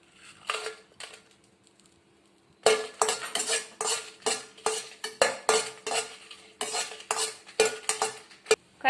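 Dried red chilies dry-roast in a pan for idli podi, a spoon scraping and clinking against the metal in quick, uneven strokes, sparse at first and then busy and rhythmic, close and clear without voices.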